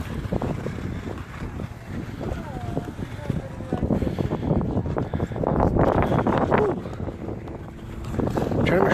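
Gusty wind buffets the microphone in heavy rumbling bursts, with people talking underneath and the blustering growing stronger midway.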